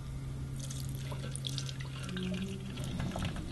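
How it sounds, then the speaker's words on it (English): Liquid custard for a gula melaka creme caramel pours steadily through a sieve, a continuous close trickling and splashing that runs throughout without pause. "I'm going to pour it through a sieve so that it kind of catches any like big bits of egg"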